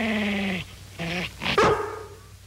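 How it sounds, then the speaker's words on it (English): In a 1958 episode of the television series, a collie dog growls and barks in short, fairly close bursts, with a sustained vocal tone followed by rougher yips. "Show them how you growled at us, Lassie."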